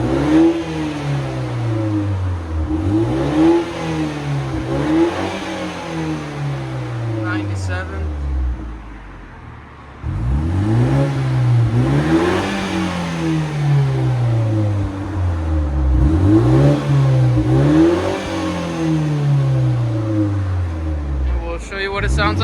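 A 2023 BMW 330i with a four-cylinder turbo engine and a deleted muffler revs hard in repeated loud climbing sweeps, with a brief drop near idle before the revving starts again.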